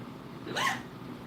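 A single sharp hiccup sounds close to the microphone, brief and fairly loud against a quiet room background.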